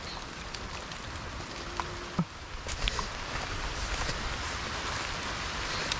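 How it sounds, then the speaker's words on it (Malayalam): Steady patter of rain falling outdoors, a dense soft hiss with occasional louder drops and a faint rustle, no voices. "മഴയാണെന്ന് തോന്നുന്നു കൂടുന്ന്"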